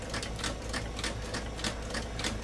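A sewing machine stitches a leather acorn and oak leaf belt whose glue is still wet, giving a rapid, steady, evenly pulsed mechanical clatter that runs throughout with no talking.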